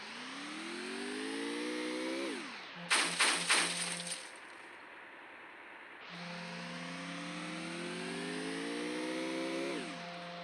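A car driven in the battle-royale game Free Fire, its engine revving up in rising gear sweeps, then a quick burst of rattling impacts, before the motor settles and climbs again; loud and continuous with no voices.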